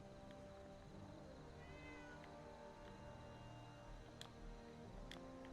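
A cat meows repeatedly in the Fallout 4 video game, Wasteland Workshop add-on, a few short, fairly quiet mews over a low ambient background with a couple of sharp clicks, no talking.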